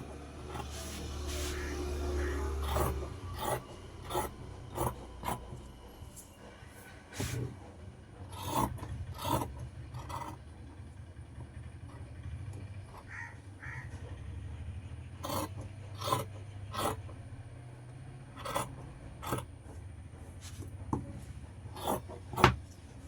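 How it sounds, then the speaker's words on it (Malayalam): Scissors cut through fabric for a churidar-style nighty, with repeated crisp snipping and rasping strokes spaced irregularly over a soft, quiet room background. "നമുക്കിത് കട്ട് ചെയ്യാം കേട്ടോ."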